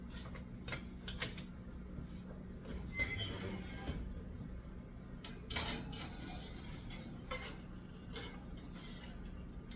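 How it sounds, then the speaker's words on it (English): A metal spoon stirring pine nuts toasting in a pan, quick clinks and scrapes against the metal scattered over a low steady hum, fairly quiet and close, with no talk. "Let me get a spoon and stir them around."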